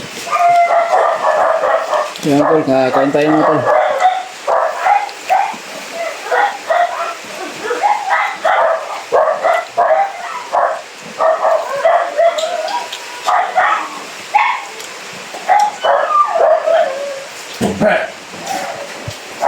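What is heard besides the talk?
dog barking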